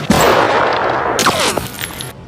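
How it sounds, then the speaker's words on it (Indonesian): Two snipers fire at each other at the same moment in a film scene, giving a loud sharp gunshot burst followed by ringing metallic decay and a second crack with a brief tail. "Mereka berdua lalu melepaskan tembakan secara bersamaan dan mengakibatkan keduanya terluka."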